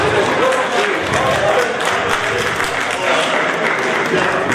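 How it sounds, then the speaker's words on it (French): Audience at a trophy award ceremony applauds an honoree with dense, sustained clapping that stays loud and steady throughout, with voices mixed underneath. "je vous demande, comme je peux vous demander encore, d'applaudir Sylvain Koulibaly"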